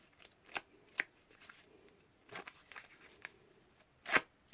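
Edges of a paper card being distressed and worn down by hand, a soft scattered run of scraping and rubbing bursts with a sharper rasp near the end, quiet and close with no talk.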